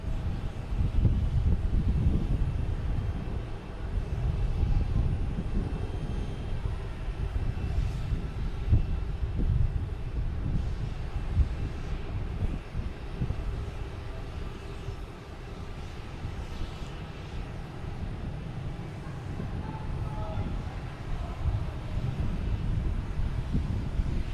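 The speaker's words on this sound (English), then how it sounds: "Lufthansa. Heading back to Frankfurt. Going up the short runway, too." A Lufthansa airliner bound for Frankfurt takes off from the shorter runway at Boston Logan Airport, its engines a steady, loud low roar that holds throughout with wind rumble mixed in.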